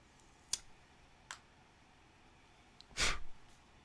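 Protective plastic film peeled off a new OneKey Classic 1S crypto hardware wallet: a couple of faint clicks, then one short, close, rasping peel that ends quickly, with no talking.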